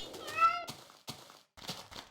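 A cat in a Minecraft-based modded game meows once, clear and fairly close, followed by short muffled thumps and game noises.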